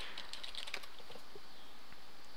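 Quick, light keystrokes on a computer keyboard, a short burst of close clicky taps followed by a few scattered presses against faint background hiss.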